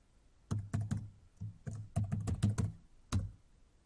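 Keys on a computer keyboard are tapped close by as a password is entered, in short, uneven clusters of clicks with a final single keystroke and no talking.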